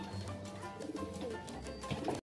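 A racing pigeon coos in soft, low repeated calls close by, steady throughout the short stretch with faint background noise.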